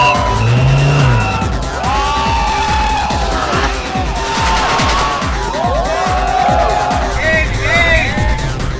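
Supercars in a parade at the Parx Super Car Show 2012 in India rev loudly and squeal their tires in repeated passes, with crowd noise and a person talking over the engines.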